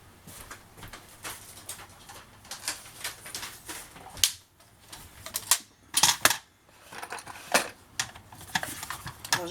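Paper is trimmed for a patchwork scrapbooking album in a series of crisp, close cutting and sliding strokes, with irregular bursts and short pauses and no speech.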